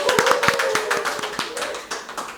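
Hands clapping in a brisk, fairly regular rhythm, like a small group applauding, close and clear with no talk.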